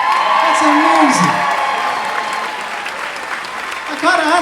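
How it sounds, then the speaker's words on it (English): A crowd applauds loudly after a dance performance at a charity dance event, with cheering and whoops mixed into the steady clapping while a voice speaks over it near the start and again at the end. "Let's give me a huge round of applause."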